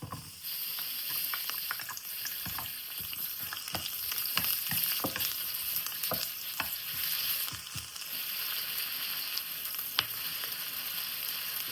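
Onions and garlic frying in hot oil in a warm pan, a steady close sizzle with scattered pops and crackles and occasional utensil taps throughout, no talking.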